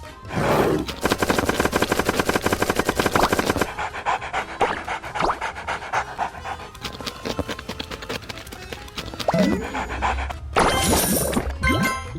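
Loud action from the video game Cooking Battle, with repeated booming bomb explosions and rapid bursts of gunfire, layered over game music and effects.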